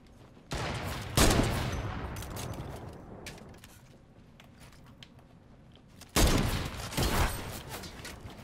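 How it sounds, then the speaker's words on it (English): Tactical assault rifle fire in a building shooter game, heard as two loud bursts of rapid gunfire with a quieter stretch of faint clicks and mechanical rattles between them. "Those damn tactical assault rifles absolutely melt"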